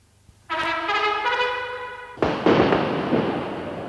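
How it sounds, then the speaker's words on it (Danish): Fireworks and rockets launch in a festive setting: a sustained whistling tone with stacked harmonics rises for about two seconds, then gives way to a loud crackling burst of bangs and sputtering, close and without talk. "Fyrværkeri og affyring af raketter er normalt forbundet med fest og glæde."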